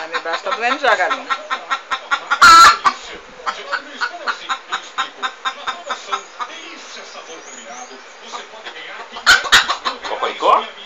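A hen clucks in a steady run of short, rhythmic notes up close, with a couple of louder squawks and a person speaking over it.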